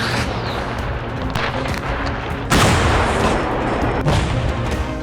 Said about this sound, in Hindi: दोनों ओर से जबरदस्त बमबारी हो रही है।